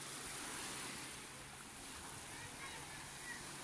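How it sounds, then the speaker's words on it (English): Waves wash steadily onto the shore of Lake Malawi, an ocean-like surf that is faint and distant, with light wind noise and no other sounds. "Lake Malawi was really confusing because it sounds like the ocean, it looks like the ocean"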